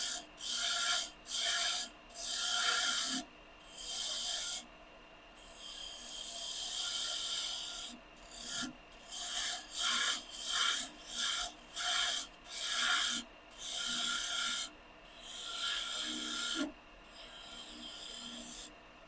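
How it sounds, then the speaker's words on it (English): A spindle gouge shapes a wooden spurtle spinning on a lathe, making close, rhythmic scraping and rasping strokes in short repeated bursts with a few longer passes. "Now we can use the spindle gouge Make our little swoop."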